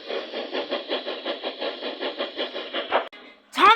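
A breakdown train engine in a Thomas the Tank Engine–themed video game chuffs in a steady, regular rhythm that cuts off abruptly, followed by a brief louder burst.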